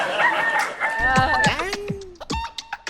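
A voice imitates a rooster's crow, a rising and falling call with a clucking tail, close and fairly loud, with no other talk.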